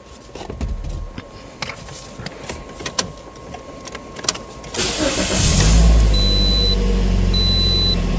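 A Toyota Corolla's engine cranks and catches, then settles into a steady, loud idle after a few seconds of clicks and starter noise, with no talking.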